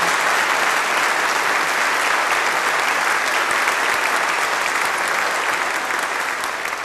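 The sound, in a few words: audience applause for alumni band at concert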